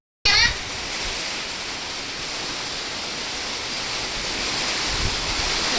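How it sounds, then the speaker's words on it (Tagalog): Heavy rain pours down while strong wind blows, making a steady, dense roar of noise that keeps going after a sudden start and swells slightly toward the end. "Grabe ang lakas ng ulan"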